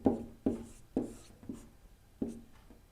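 Chalk or marker strokes on a classroom board as a sentence is written, short scratchy bursts about every half second, close and distinct with no talking.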